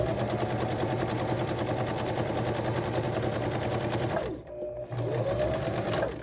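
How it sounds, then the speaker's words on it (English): Sewing machine running a seam with a quarter-inch allowance on a changing pad cover, a close, steady motor whir that pauses briefly then resumes. "So now we're going to sew that first section using 1/4 of an inch seam allowance."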